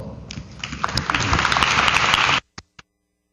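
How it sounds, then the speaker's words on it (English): An audience at an informatics career panel applauds in welcome, the clapping building and holding fairly loud before cutting off sharply, followed by two isolated thumps. "Please give him a round of applause."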